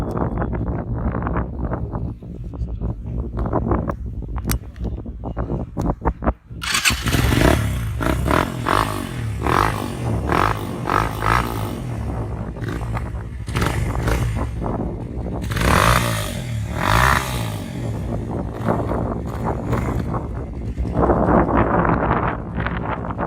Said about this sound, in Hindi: तो अब चलते हैं इस बाइक के साउंड की तरफ।